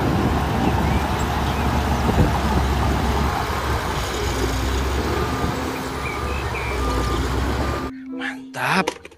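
A bulldozer moves along with a loud, rumbling engine drone and clanking, steady throughout before cutting off, followed by brief talk.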